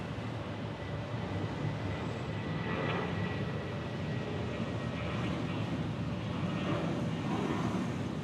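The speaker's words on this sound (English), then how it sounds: "JetBlue departing here on the A320." A JetBlue Airbus A320 departs Orlando International Airport with a steady, broad jet engine roar that holds loud and constant throughout, with no talk.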